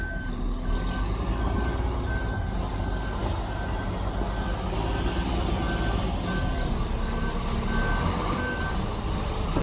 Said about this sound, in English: here we're going to try to take it off with a dump truck